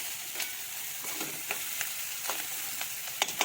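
Peanuts fry in a pan with a faint, steady sizzle, broken by light clicks and scrapes as they are stirred, including a couple of sharper taps near the end; close, quiet and without voices.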